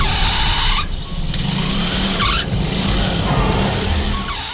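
A motorcycle rides along in a dramatized ghost story, its engine a steady, loud, rushing drone with slight swells in pitch, heard alone and continuous throughout.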